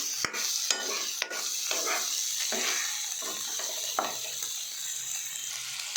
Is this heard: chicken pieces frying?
yes